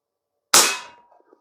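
A single sharp crack from an Umarex Fusion 2 CO2-powered .177 bolt-action pellet rifle, loud and close, with a short fading tail after the shot.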